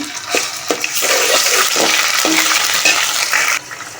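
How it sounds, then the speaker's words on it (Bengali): Ginger and garlic tossed into onions already browned in hot oil, giving a steady loud sizzle with repeated scraping stirs of a spoon against the pan, no voices. "এখন আমি আদা রসুন দিয়ে দিব"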